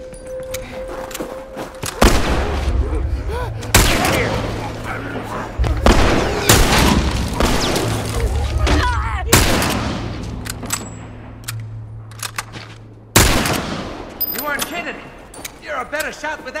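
Gunshots in The Last of Us Remastered during a hunt at a lakeside resort: several loud, sharp reports spaced a few seconds apart, each leaving a ringing tail, with in-game voices speaking between them.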